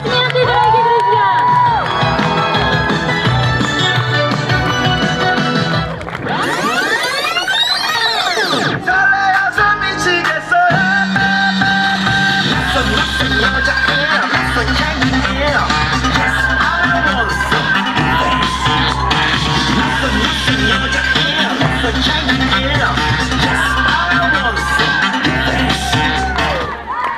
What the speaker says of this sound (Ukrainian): Бурные аплодисменты, дорогие друзья!